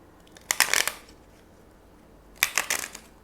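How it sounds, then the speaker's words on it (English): A deck of tarot cards is shuffled in two short, crisp riffling bursts about two seconds apart, close and fairly loud with quiet between them. "I'm going to do one more shuffle"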